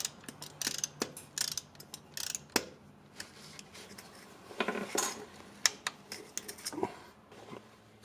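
Metallic clicks and clanks come in irregular bursts at close range as the lock pin on a Jeep Liberty rear axle is coated with Loctite and torqued to 96 inch-pounds. Several sharp ticks stand out, with no talking.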